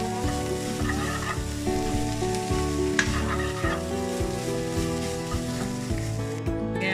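Filling for fish egg rolls sautés with black pepper powder in a pan, a steady close sizzle punctuated by rhythmic scraping strokes of a spoon stirring throughout, with no talking.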